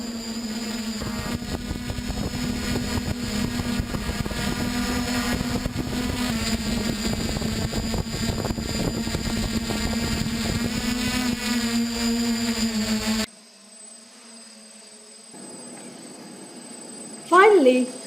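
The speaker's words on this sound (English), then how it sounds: "The first drone flies over the CERIST to find an entrance." Civil drone flying over a research centre building in search of an entrance, a steady droning engine and propeller hum held loudly under a music bed for about thirteen seconds before cutting to near quiet.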